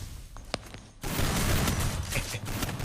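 Gunfire in the video game Free Fire, scattered single shots followed by a loud, continuous fusillade of rapid overlapping bursts and explosions that fills the rest of the clip.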